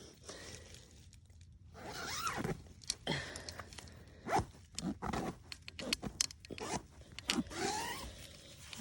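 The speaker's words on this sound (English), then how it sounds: "Let's unzip it." Unzipping a sleeping bag inside a two-person Gossamer Gear tent in Seminole State Forest: several close zip pulls of varying length with rustling fabric and soft handling noises between them.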